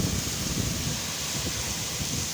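Heavy rain and gusting wind fill the air during a thunderstorm in Oman, making a constant dense hiss with low rumbling buffets throughout.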